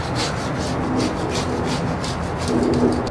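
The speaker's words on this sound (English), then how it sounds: "then we're going to run through with our spline roller" A spline roller presses rubber spline into fly screen mesh on a frame, a steady soft rubbing and rolling texture that runs continuously with faint rhythmic pulses, close and alone.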